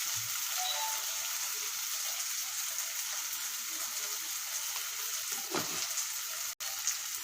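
Tomato masala with sambar powder frying in oil for a vendakka (okra) gravy, a steady close hiss of sizzling with faint stirring scrapes and one brief clatter near the end.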